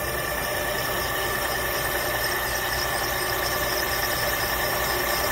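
Core drill cutting a badly rusted valve seat on a Little Red Express 360 cylinder head, giving a loud, steady, continuous high-pitched squealing grind with a constant motor drone underneath, no pauses and no talking.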